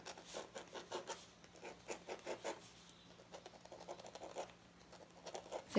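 Pen scratching across paper in close, faint bursts of rapid rhythmic strokes, a pause, then more quick scribbling strokes.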